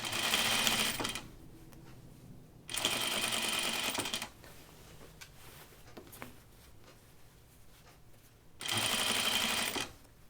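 Sewing machine stitching a tunic: three short bursts of fast, whirring needle clatter, close and fairly quiet, with soft fabric handling and rustling in between, no speech.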